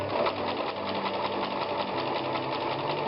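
A sewing machine with a walking foot chain-pieces quilt patches in a steady, continuous, fast whir of stitching, close and alone without talk.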